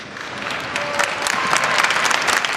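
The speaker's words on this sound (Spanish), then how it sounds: "respaldados por aplausos de algunos familiares" Some family members applaud at a protest as a politician arrives, steady loud clapping with crowd murmur and a few voices mixed in, sustained throughout.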